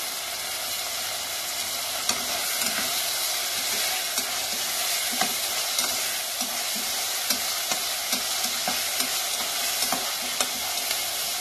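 Tomatoes with green chillies and dried red chillies sauté in a pan. A steady, bright sizzle continues throughout, and soft spoon clicks and stirring taps come at an irregular rhythm.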